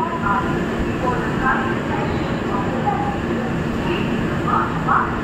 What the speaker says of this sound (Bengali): নবদ্বীপ ধাম থেকে ট্রেনটা এখন ছেড়ে দিল।